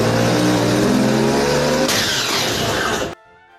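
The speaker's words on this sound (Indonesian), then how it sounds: "Saat mesin udah meraung tinggi, sedetik kemudian suara garing berubah jadi petaka." A motorcycle engine revs hard and high, loud and close, then its pitch shifts partway through before the sound cuts off abruptly into near silence.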